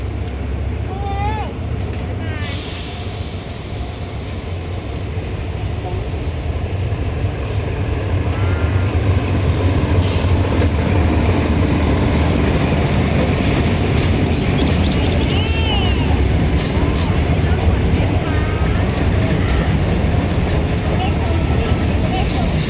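A heavy freight train departing Sisaket station toward Ubon Ratchathani, Thailand, rumbles steadily at low pitch, a continuous loud drone with faint squeals and clanks, rolling slowly without pause.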